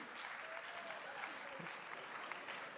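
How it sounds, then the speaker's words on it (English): An audience at an international homoeopathy conference in Mangalore claps for the award winners. The steady crowd applause runs throughout at a moderate distance, and faint voices can be heard beneath it. "you can give a good round of applause for the winners"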